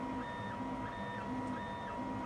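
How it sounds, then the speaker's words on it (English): Creality CR4 3D printer printing a NASA space wrench in black, with steady stepper-motor whines and a low mechanical hum repeating in a regular rhythm, close and moderately quiet, no talk. "So we're printing the NASA space wrench."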